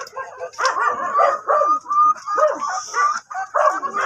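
Rhode Island Red chickens in a breeding pen give repeated close clucks and calls in short bursts, with a possible faint crow amid the flock chatter.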